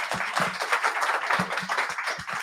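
A meetup audience gives a brief round of applause, steady scattered clapping from a small group throughout.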